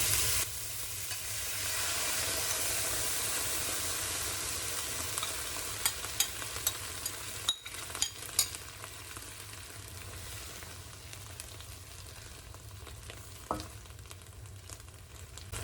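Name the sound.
sauce added to frying garlic and shrimp, sizzling while stirred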